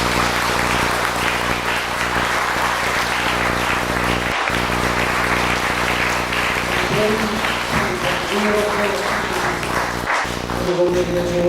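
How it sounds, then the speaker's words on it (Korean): A church evangelism rally audience applauds loudly and steadily to welcome a speaker with flowers, a dense wash of clapping throughout with music or voices rising faintly underneath toward the end. "우리 크게 박수로 맞이해 주시기 바랍니다"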